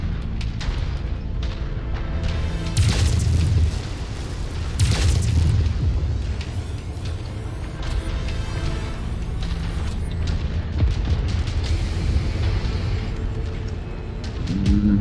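Heavy artillery shells from Long Tom mech weapons in MechWarrior 5 burst in repeated booming blasts, deep rumbling impacts and explosions layered continuously over roughly fifteen seconds of loud battle noise.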